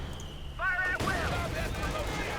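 Gunfire in the World War II strategy game Company of Heroes 2: Ardennes Assault opens after a short whistling tone, then a dense, loud burst of shots and battle noise continues with voices talking underneath.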